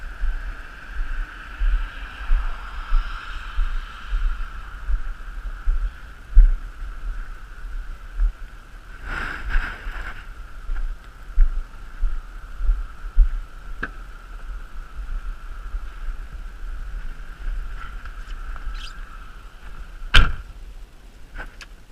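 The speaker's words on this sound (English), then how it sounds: "what I noticed driving it here is pretty loud road noise" Constant low road noise and a steady hum fill the cabin of a 2011 Chevy Camaro RS V6 while driving, with occasional thumps and a brief louder whoosh.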